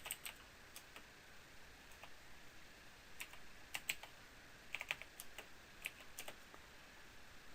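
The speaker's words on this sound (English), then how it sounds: "We're going to type in our scripture." Typing on a computer keyboard while entering a scripture header into a study file, with quiet, irregular key clicks scattered across a faint background hiss.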